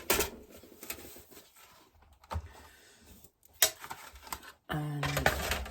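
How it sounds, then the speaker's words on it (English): A die cutting machine runs a paper card panel through for a butterfly cut, with scattered clicks and knocks followed by a louder, steady mechanical roll near the end, close and alone. "I am going to run that through my die cutting machine"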